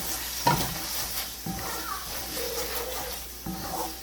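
Water poured into an egg pasta pan sets off a steady sizzle with stirring scrapes and a few soft knocks of a utensil, close and moderate in level.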